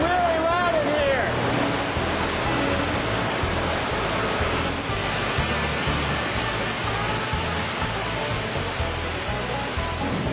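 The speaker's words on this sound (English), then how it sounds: "it's separated and ground down into its various parts through these machines" Machines grinding and milling corn inside an ethanol plant give off a loud, unbroken industrial roar that fills the space evenly for the whole stretch, with no pauses.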